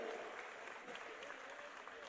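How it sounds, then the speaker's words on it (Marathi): A public ceremony crowd claps hard and continuously: dense, steady applause filling the space for the whole short stretch, with no pause or single voice standing out. "जोरदार टाळ्या आपण वाजवूया"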